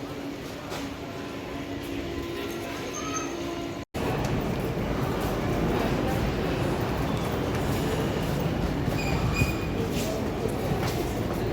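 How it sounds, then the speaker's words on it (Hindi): Ambience at Lingapur railway station: a steady, broad rail-and-crowd wash with faint clicks and distant squeals, continuous for the whole stretch apart from a brief dropout near the start. "मैं हुआ अभी लिंगापुर रेलवे स्टेशन पे।"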